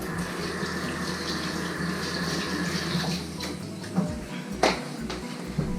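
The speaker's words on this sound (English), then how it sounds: "Let me wash my hands real quick." A water tap runs steadily close by while hands are washed in a home kitchen, a continuous hiss and splash with a few clinks and knocks near the end.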